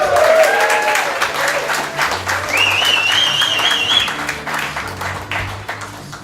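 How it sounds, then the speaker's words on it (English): A comedy club audience at a comedy finals in a hotel applauds and claps loudly and steadily as a comedian is introduced, with a whistle rising over the sustained clapping throughout. "Put your hands together for JP Mack"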